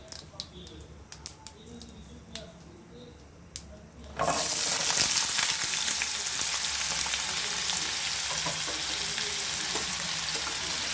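Potatoes tipped into hot oil with whole white cumin in a pan, bursting into a loud, steady sizzle that fills the rest of the clip after a quieter opening of faint kitchen sounds.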